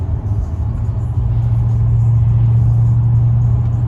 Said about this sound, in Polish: sprawdzimy przyspieszenie od 0 do 100, 150, a może jeszcze trochę